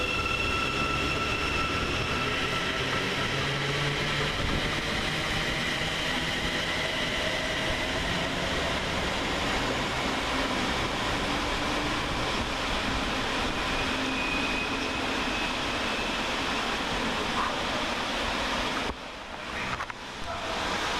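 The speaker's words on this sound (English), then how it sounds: "we see 360-102 and 360-118 depart with the 1425 Govia Thameslink service from Corby to London St Pancras" Two coupled Class 360 electric trains, units 360-102 and 360-118, pulling out of Luton railway station on a Corby to London St Pancras service, giving a steady, moderately distant rumble and whine with no voices.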